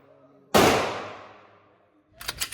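A single loud 10mm pistol shot fired through a Meta Tactical MX1 suppressor, a sharp crack whose echo trails away over about a second and a half, followed by faint rustling and handling noise.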